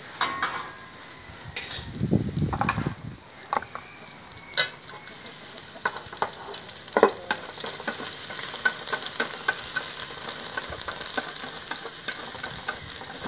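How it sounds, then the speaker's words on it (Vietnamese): Spices sizzling and frying in cooking oil in a pan on a gas stove for a Vietnamese coconut-milk stir-fried chicken dish, a steady close crackle with occasional stirring clatter and no talking. "Bây giờ là bắt lửa lên để dầu ăn vô, để những mà gia vị vô rồi mình đi mà làm."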